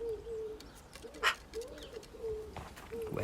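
A pet bird, tagged as a dove or pigeon type, gives several soft cooing calls in short phrases indoors, with faint background noise and no talking.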